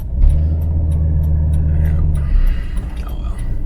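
An RV fitted with a Hellwig rear stabilizer cruises down the highway with a steady low rumble of engine and road noise throughout, some faint clicks and light background voices mixed in.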